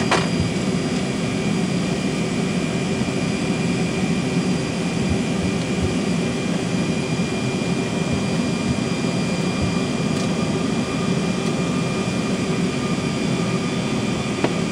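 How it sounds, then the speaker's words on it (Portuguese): Fokker 100 jet engines at takeoff power, a loud, steady roar heard from inside the aircraft, holding constant throughout with no voices. "autorizada a decolagem"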